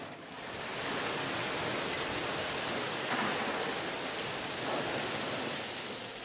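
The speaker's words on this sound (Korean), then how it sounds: "잘게 부서진 얼음이 마치 폭포수처럼 시원하게 쏟아집니다." Crushed ice pours out at a busy fish market harbor in a loud, steady rushing roar, a continuous broadband cascade with no talking.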